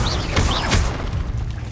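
Expelliarmus spell cast in Hogwarts Legacy: two quick whistling swoosh streaks with thudding impacts land in close succession, loud over low rumbling combat noise that fades afterward.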